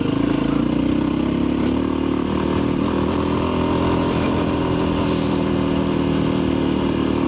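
Voge 300 motorcycle ridden along a gravel and shale track, engine droning steadily and loud up close with a constant clatter of stones and wind rush throughout.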